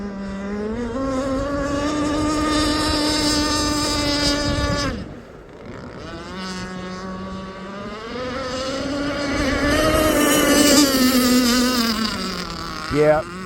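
Aeromarine Avenger 44 gas RC boat powered by a Zenoah 29cc engine with a steel Gizmo pipe, running on open water in a stiff breeze: a loud, high buzzing two-stroke whine that dips briefly mid-run, then climbs again as the boat pulls away.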